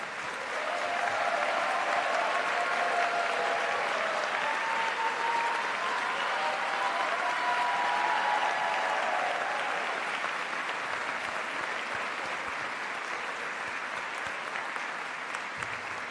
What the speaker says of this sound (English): Please give our candidates another round of applause